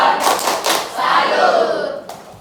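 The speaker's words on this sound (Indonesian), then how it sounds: "Berikan dulu tepuk tangan untuk kelompok IP" A class group in Makassar claps and cheers for a student team, a brief noisy burst of hand claps and voices with a short yelled chant, close and fairly loud before tapering off.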